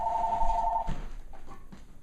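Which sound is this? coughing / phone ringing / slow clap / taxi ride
phone ringing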